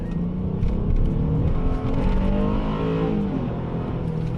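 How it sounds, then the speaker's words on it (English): A car's engine pulls hard under acceleration in sport mode as the Honda VTEC engages in a Toyota Matrix XRS, with rising harmonic tones climbing steadily and staying loud and close throughout, with no talking. "There's the VTEC."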